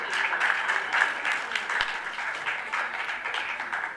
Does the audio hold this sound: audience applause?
yes